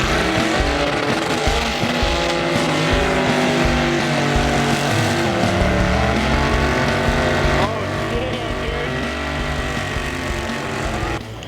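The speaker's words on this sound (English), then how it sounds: "after watching the first truck run the mud bog" A truck runs a mud bog, its engine revving hard and loud in long rising and falling strains, with people talking and cheering under the roar.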